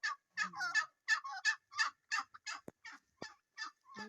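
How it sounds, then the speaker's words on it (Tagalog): A large turkey gobbling in rapid rattling bursts, loud and close, repeated several times in quick succession. "To, guys, ang laki ng pabo."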